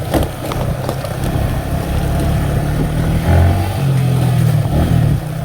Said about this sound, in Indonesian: Ada motor-motor.